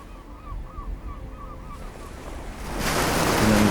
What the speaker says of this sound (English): You can sit on these rocks and just watch the waves come in off the Atlantic Ocean.